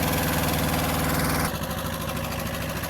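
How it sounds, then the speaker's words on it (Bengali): The engine of a 2020 Tata car idling, producing a steady, close rumble with a constant rhythmic throb that shifts slightly in tone halfway through and keeps running with no talk. "আপনারা ইঞ্জিনের সাউন্ডটা শুনতে পাচ্ছেন"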